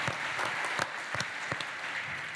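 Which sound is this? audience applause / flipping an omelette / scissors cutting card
audience applause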